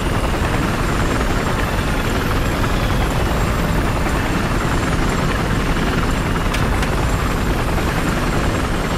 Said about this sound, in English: I've eyes on enemy helicopter west of navigation.